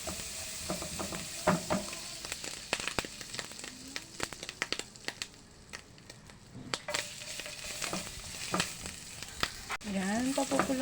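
Garlic sizzles and crackles in hot oil in a pan for fried rice, a steady frying hiss broken by scraping stirs and spatula clinks, with no talk.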